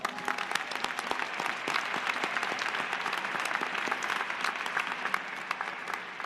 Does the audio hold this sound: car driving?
no